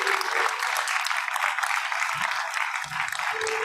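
Parents at a pre-primary school convocation ceremony clapping continuously, a steady moderate patter of many hands, with brief low voices and a few thumps breaking in toward the end.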